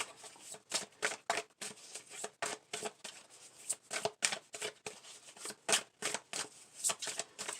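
Tarot cards being shuffled in quick repeated bursts, crisp riffling flutters close by with brief pauses between, no voices.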